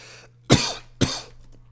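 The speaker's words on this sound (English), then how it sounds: "Sorry for coughing right into the mic." Two sharp, close coughs land straight into a microphone about half a second apart, each a loud burst that quickly trails off, with near silence around them.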